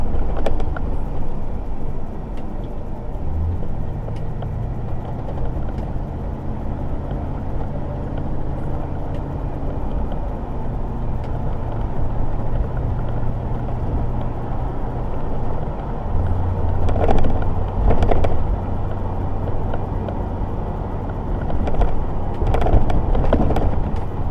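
An old Ford F250 pickup cruises along a road, its engine a steady low drone with road noise, swelling briefly as it pulls through traffic, heard from inside the cab for a long continuous stretch.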